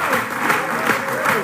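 A live audience at a Zildjian drum event performs the I'm All In clap, dense loud applause with rhythmic swells, cheering voices and whoops mixed in.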